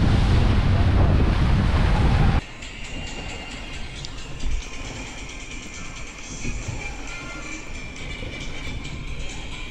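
Long North Sea swells wash steadily around a sailing boat under strong wind buffeting the microphone, loudest in a rough gust at the start and then a continuous mid-level rush of water and wind.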